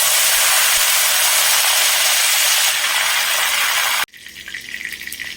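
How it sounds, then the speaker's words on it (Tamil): Curry leaves, two sprigs washed and shaken damp, crackle and sizzle in hot groundnut oil for a chicken chops dish, a loud steady hiss that cuts off abruptly near the end, leaving a quieter bubbling fry. "இப்போ நம்ம சூடான எண்ணெயில் 2 கொத்து கருவேப்பிலை போட்டோம். அது நல்லா பொரிஞ்சிருச்சு."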